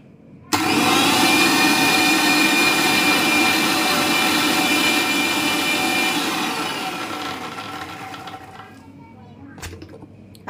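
Mixer grinder whirring loudly as it blends spinach with a little water for palak paneer, a steady dense motor roar that runs about eight seconds before winding down and stopping, followed by faint clatter.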